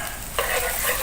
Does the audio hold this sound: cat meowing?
no